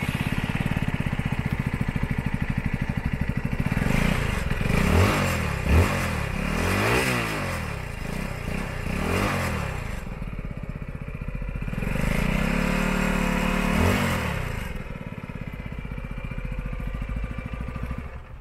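A 2023 Brixton Crossfire 125 motorcycle, still in its break-in period, idles steadily and close up, with several short blips of the throttle rising and falling in pitch and a longer rev in the middle.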